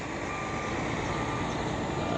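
Trucks and trailers fill a crowded parking lot, with a steady reversing beep tone repeating over a constant engine rumble and no talking.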